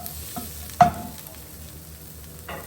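Ingredients for a Mediterranean fish stew fry and sizzle in a pan, with a sharp scrape of stirring near the start and another softer stir at the end over a steady low hiss.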